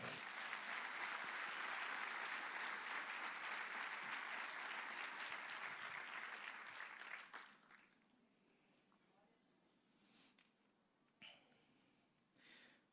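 Church congregation applauding the Lord during a Portuguese-language sermon, a dense, steady roar of clapping for about seven seconds that then fades to a few scattered claps and quiet room noise.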